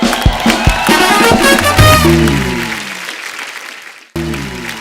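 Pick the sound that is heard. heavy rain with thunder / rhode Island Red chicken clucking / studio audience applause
studio audience applause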